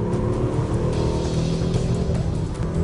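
Engine of a 2019 Mercedes-Benz AMG GT 63 S four-door coupe drones loudly and steadily from inside the car while driving, a continuous deep roar with road rumble and no speech.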